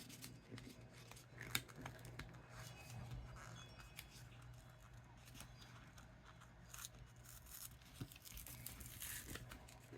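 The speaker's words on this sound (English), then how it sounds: "I know you guys hear that paper, don't you?" Paper being cut with scissors and handled, faint close snips, crinkles and rustles scattered over a quiet background, with occasional small sharp clicks.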